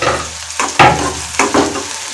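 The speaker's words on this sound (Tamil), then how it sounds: "பிரிஞ்சி இலை, கட் பண்ணி வச்சிருக்க வெங்காயம் எல்லாத்தையும் சேர்த்துக்கோங்க" Whole cinnamon, cardamom, bay leaf and chopped onions frying in hot oil for a mushroom masala, a steady close sizzle with a few louder bursts of crackle as ingredients hit the pan and get stirred.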